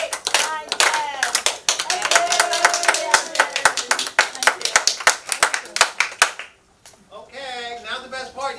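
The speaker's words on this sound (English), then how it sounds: "Open your eyes and rub your hands together and clap 10 times." A group in a meditation class claps hands together, a run of sharp, loud, evenly paced claps; children's voices and chatter mingle under the beats, then a brief pause before more talk.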